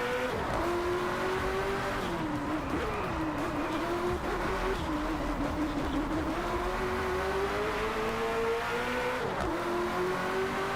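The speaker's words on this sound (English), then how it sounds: "The gear switch sounds very funny in this car." Racing car engine in the Driveclub racing game revving steadily and loud throughout, with a few distinct dips and surges as the gears shift, plus faint tire noise.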